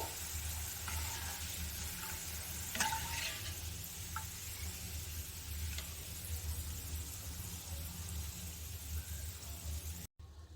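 Potato snacks deep-frying in hot oil give off a faint, steady sizzling hiss that runs unbroken and alone, with a few soft clicks scattered through it.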